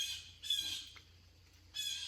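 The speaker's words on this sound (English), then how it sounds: "Listen to the bird calling." Shrill bird squawks in two bursts separated by a short pause, close and loud against a quiet background.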